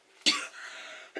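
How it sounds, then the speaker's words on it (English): One sharp, close cough from a person, a brief harsh burst trailing into a breathy rasp, followed by a softer short cough at the end. "I started coughing."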